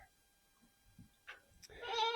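Goats bleat on a snowy homestead after a storm of about 14 inches, a short loud burst near the end following a few faint earlier calls.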